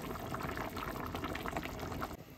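Thick, creamy mixture pouring into a pot of vegetable soup, giving a steady, close bubbling and liquid gloop that continues evenly throughout.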